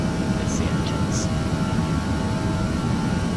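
Airliner jet engines cruising in Flight Simulator X give a steady, even drone, with a couple of faint short chirps over the constant roar.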